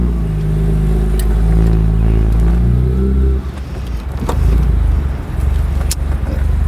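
A Jaguar E-Type roadster engine, freshly rebuilt, idles loud and close with a low rumble, then a clunk of gear selection and revving as the car pulls away.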